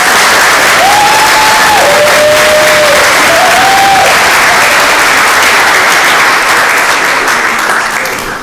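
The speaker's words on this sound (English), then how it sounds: "Let's give them another round of applause." Sustained loud applause from a large crowd at a school athletic awards ceremony fills the whole stretch, steady and dense, tapering slightly at the very end.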